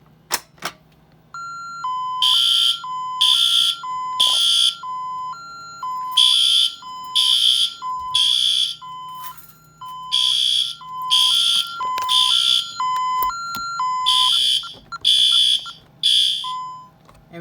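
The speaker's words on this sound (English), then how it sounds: "There we go, I silenced the alarm" Loud electronic alarm siren repeating in pulsing bursts of high shrill tones, cycling steadily with short gaps between groups.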